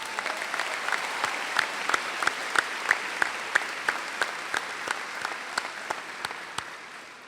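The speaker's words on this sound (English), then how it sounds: "please give yourselves another well-deserved round of applause" Applause at a high school graduation ceremony: a broad bed of crowd clapping, with one close, loud clapper striking a steady, evenly spaced beat on top that fades slightly near the end.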